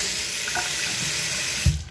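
A bathroom tap runs steadily, a soft continuous hiss of flowing water close by for the whole stretch, ending with a faint thump.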